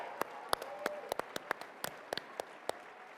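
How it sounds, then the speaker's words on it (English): Sparse, scattered hand claps from a conference audience of young conservatives at a political gathering, a dozen or so separate sharp claps rather than a full ovation, fairly close and modest in volume. "Could I hear a round of applause for all the young conservatives that are here?"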